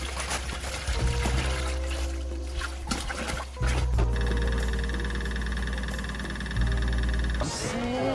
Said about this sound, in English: After disinfecting and rinsing out my reverse osmosis reservoir, it's time to fill it with water again.